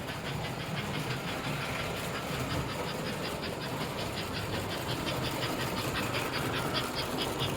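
A 1954 American Flyer #287 Pacific model steam locomotive runs steadily, giving a continuous mechanical whir and rapid rhythmic chuffing clatter, close and even throughout with no talking.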